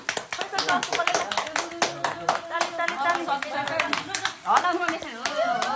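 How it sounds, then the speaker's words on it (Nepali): Rapid applause from several people clapping continuously at a family Mother's Day celebration, with excited voices talking and cheering over it close by. "ताली ताली ताली"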